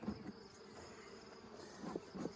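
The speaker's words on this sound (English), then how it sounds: "these bees are something else. They're purebred Italians." Purebred Italian honey bees drone steadily at an open hive, a faint, continuous hum with a few slightly louder swells and no speech.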